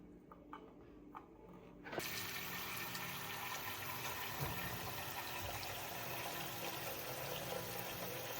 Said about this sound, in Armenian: Հիմա նորից ջուր կլցնեմ